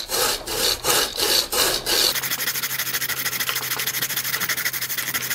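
Rough, rhythmic sawing through a tree trunk with a reciprocating saw fitted with a wood blade, loud and close, with a steady buzzing motor hum and rapid back-and-forth strokes; no talking.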